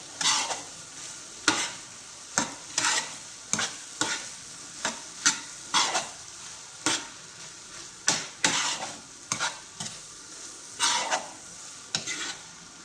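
Boiled rice being stirred in a pan for calamari tube filling, a spoon scraping and turning it in irregular bursts of scraping strokes over a soft sizzle, close and fairly clear with no talking.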